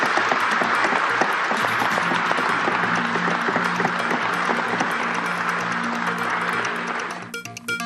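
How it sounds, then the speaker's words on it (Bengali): Applause in a legislative assembly in the house honoring a family, a steady broad clapping wash sustained for several seconds before fading near the end, with no voices over it. "সবাই হাততালি দিয়ে এই পরিবারকে স্যালুট করুন।"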